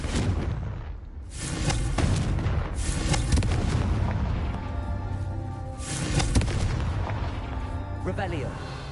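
Repeated Confringo fire-spell blasts in the Hogwarts Legacy game on PS5, deep booming explosions landing every second or two over a continuous rumbling background with game music and voices mixed in.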